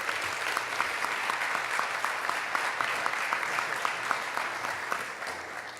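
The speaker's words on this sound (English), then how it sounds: "let's give a round of applause as he comes." Applause at an Atlanta Hawks press conference in College Park as the NBA D-League president comes up, a steady sustained round of clapping with a few sharp claps standing out, fading slightly at the end.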